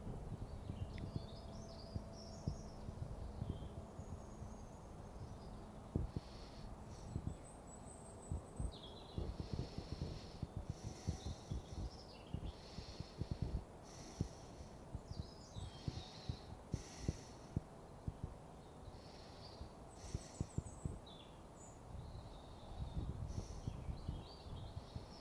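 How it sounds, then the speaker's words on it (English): Birds sing in woodland, sending repeated high chirps and short song phrases at moderate distance over a low rustling bed scattered with close clicks and knocks. "you can probably hear all the birdsong that's rather beautifully playing while we do this"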